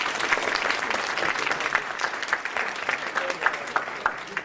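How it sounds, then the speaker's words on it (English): An audience at an awards ceremony applauds a food donation with brisk, dense clapping that holds at an even level for the whole few seconds. "Can I hear a round of applause?"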